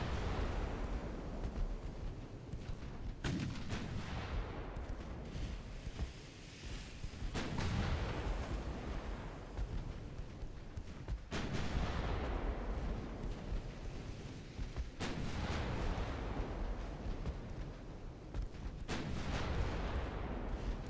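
Battleship naval guns fire high-explosive shells in the Ultimate Admiral Dreadnoughts naval warfare game, heavy booming salvos recurring every few seconds over a constant roar of battle ambience.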